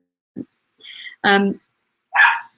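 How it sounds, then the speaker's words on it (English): A small puppy barks from downstairs in a house, a few separate yips and sharp barks spaced apart, clear but somewhat distant, with no talking. "Excuse me if you can hear my little puppy barking downstairs."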